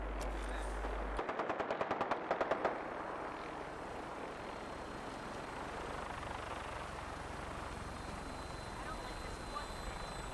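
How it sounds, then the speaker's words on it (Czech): Helicopter in the video game Fallout 4, a steady droning rotor and engine noise running through the whole clip, with a short burst of rapid gunfire near the start and a voice speaking. "Ten vrtulník se mi tu nelíbí."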